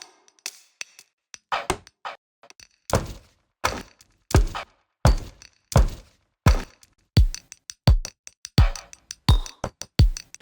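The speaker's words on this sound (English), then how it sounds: "So this is just me banging stuff around my studio and it spits out a bunch of loops like this." Percussion loops built from objects banged around a home studio: a sequence of sharp thunks, taps and knocks in an irregular but looping rhythm, close and dry with short gaps of silence between hits.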